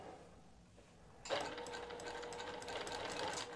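A sewing machine on a free-motion quilting setup starts abruptly and runs steadily for a few seconds, making tie-off stitches with a close, continuous mechanical whir and no one talking.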